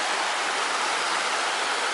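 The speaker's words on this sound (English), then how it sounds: "hear the sound of the river" A river rushes through a Scottish glen on the Cape Wrath Trail, a steady, broad hiss of flowing water close by with no break and no voices.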